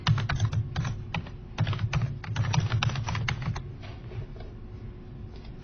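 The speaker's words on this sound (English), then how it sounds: "And then I can type some text." Rapid, close keyboard typing enters text for a forum post on a computer, with bursts of clicking keystrokes that thin out and fade toward the end.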